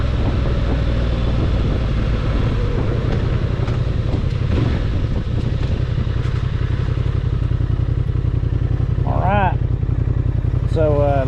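A 2025 Honda Transalp motorcycle rumbles steadily while riding, a loud, close engine drone with wind buffeting and occasional clatter from the bike; a rider's voice cuts through briefly near the end.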